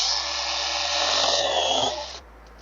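A PRORUN PMCS120 20V lithium-ion cordless mini chainsaw cuts through a roughly one-inch branch, a close, steady high-pitched motor whine biting into wood for about two seconds before winding down.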